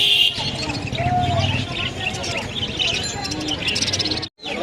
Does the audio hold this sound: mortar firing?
no